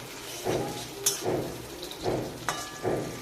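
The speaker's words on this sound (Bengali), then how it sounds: "পেঁয়াজটা আমি নাড়াচাড়া করে নিচ্ছি।" Chopped onion sizzles in hot oil in a pan, with a repeated rhythm of stirring strokes and soft scrapes against the metal, close and fairly quiet.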